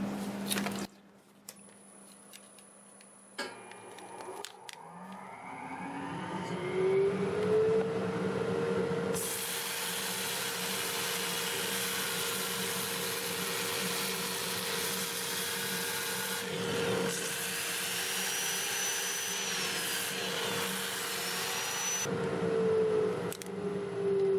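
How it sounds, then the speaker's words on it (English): A wood lathe running in reverse at about 450 RPM hums steadily while sandpaper rubs against the spinning maple piece, a continuous broad scratchy whoosh with a rising motor tone and brief pauses. "I'll have the lathe running in reverse at about 450 RPM"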